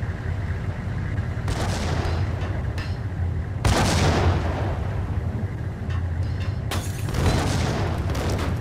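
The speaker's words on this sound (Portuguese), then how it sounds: "Estou a explodir-lhe granadas ao pé dele" Grenades blasting in the shooter Max Payne, with several loud, broad explosive bursts striking over a constant rumbling backdrop, each blast trailing off into a brief roar.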